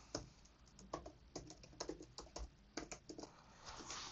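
Admin password being typed on a computer keyboard: a quiet, close run of irregular key taps with small pauses between clusters, no voices present.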